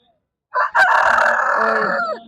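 A rooster crows once at a livestock exhibition fair in Adamdighi, Bogura, Bangladesh, loud and close, a long drawn-out call that rises and then trails off, after a moment of silence.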